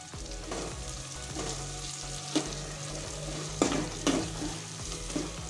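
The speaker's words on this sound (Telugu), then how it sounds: "గ్రీన్ చిల్లీ వేగగానే ముందుగా రెడీ చేసుకున్న ఆనియన్స్ అనేది యాడ్ చేసుకొని మంచిగానైతే మిక్సీ చేసుకొని వేయించాలి" Sliced onions and green chillies frying in a pan for a moringa leaf dal, a steady close sizzle with occasional sharper clicks of stirring, no voices.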